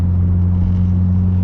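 A steady, low engine hum and road rumble drone from inside a moving, freshly tuned 444 whp Subaru WRX, constant and loud with no voices.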